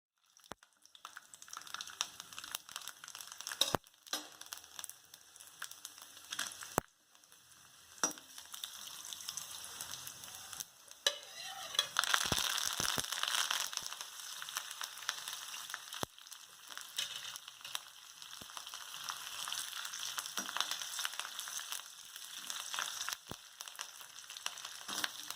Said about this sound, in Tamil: எண்ணெய் கொஞ்சம் சூடானதும் சீரகம், பூண்டு, வரமிளகா, கருவேப்பிலையை போட்டு கூடவே நறுக்கின வெங்காயத்தை சேர்த்து வதக்கிக்கிடணும்